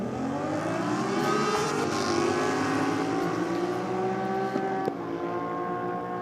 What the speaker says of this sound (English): Certainly hit those wheelie bars hard on the launch there for Albie.